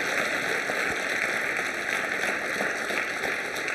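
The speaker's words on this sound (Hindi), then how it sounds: "तालियां बजाइए इनके लिए आप जबरदस्त तरीके से" An audience at a Holi quiz show in a girls' college hall claps continuously, a dense and loud wash of applause with no gaps or voices over it.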